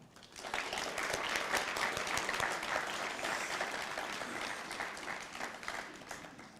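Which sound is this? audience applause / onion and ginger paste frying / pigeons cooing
audience applause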